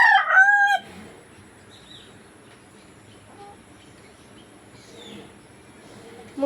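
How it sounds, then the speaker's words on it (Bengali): A rooster crows once, close and loud, among a small flock of newly arrived backyard chickens, then quiet faint rustling and soft clucks follow. "মুরগিগুলো।"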